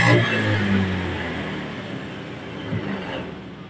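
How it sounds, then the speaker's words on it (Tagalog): A repaired motorcycle engine, previously troubled by corrosion, revs and idles steadily nearby, a continuous mechanical drone that swells at the start and again briefly near the end, with no talk. "Gumagana na. Isa pa. Pandarin natin."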